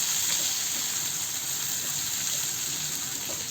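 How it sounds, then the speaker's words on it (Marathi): Chopped onion with dried red chillies sautéing in hot oil on a low gas flame, a steady, even sizzle that holds throughout with no voices. "कांदा परतून घेऊ।"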